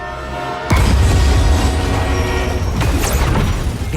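A runaway train in Marvel's Spider-Man 2 hits with a sudden loud crash, then a sustained heavy rumbling roar with metallic screeching and a second impact near three seconds, close and dense, no voices.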